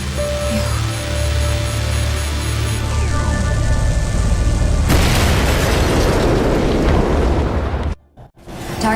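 A destroyed target explodes in the Daemon X Machina mech action game, first a mechanical whirring, then a huge loud roaring blast that sustains before cutting off abruptly near the end, with no speech.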